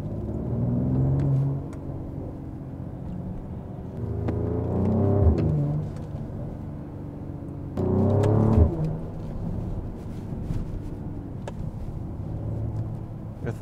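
Mercedes-AMG GLE 53 Coupe (2024) engine in Sport Plus mode accelerating through the gears, rising revs with shift breaks and a few sharp pops and crackles, heard from inside the cabin without talk.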